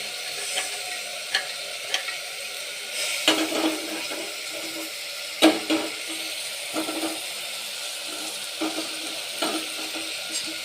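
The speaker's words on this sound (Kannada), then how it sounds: "ಸೊ ಹಾಗೆ ಇದನ್ನು ಸ್ವಲ್ಪ ಎಣ್ಣೆಯಲ್ಲಿ ಫ್ರೈ ಮಾಡಬೇಕು." Fresh pigeon peas fry in oil with softened tomato in a pan, a continuous sizzling hiss punctuated by irregular scrapes and knocks of a stirring spoon, no voices.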